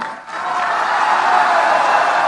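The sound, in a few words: audience clapping at a political speech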